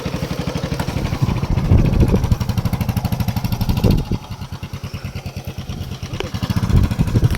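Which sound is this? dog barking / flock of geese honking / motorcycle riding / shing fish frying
motorcycle riding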